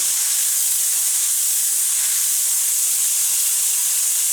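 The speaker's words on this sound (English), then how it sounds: "bathe this little piece of pork with some white wine" White wine poured onto hot pork in a pan, a loud continuous steaming hiss and sizzle heard close up, with no talking.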